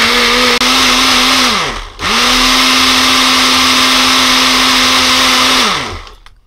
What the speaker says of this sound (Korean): 믹서기에 돌려줄게요.